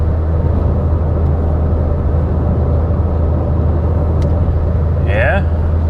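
A 2015 Chevy Sonic cruising at highway speed, a loud, steady low rumble of road and engine noise from inside the cabin, with a brief high chirp near the end.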